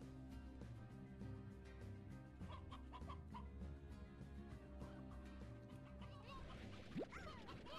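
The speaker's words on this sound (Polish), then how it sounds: "Koguty!" Roosters cluck quietly in the video game Slime Rancher, with a string of short clucks over a faint tonal backdrop of game sounds, and a brief squawk near the end.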